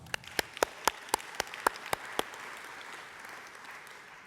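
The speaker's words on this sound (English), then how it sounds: "I think that deserves a big hand of applause" Scattered clapping at the AMO Annual Conference in 2018: a handful of sharp, distinct claps spaced about a quarter second apart fade out after two seconds, leaving faint room noise, as if only a few hands join in.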